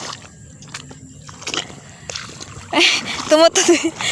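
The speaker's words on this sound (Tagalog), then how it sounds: "Tumutunog yung mga tubig sa loob ng butak." Water splashes and sloshes in a flooded pothole on a muddy road in short bursts near the end, loud and close, after a quieter stretch, with a voice briefly heard among the splashes.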